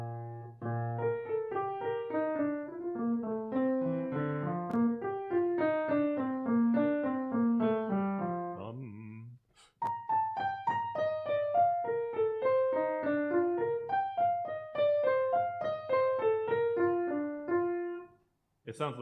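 Solo piano plays the middle part of a variation from Brahms's Haydn Variations, Op. 56, in a continuous flowing passage with a brief pause near the midpoint before resuming to the end.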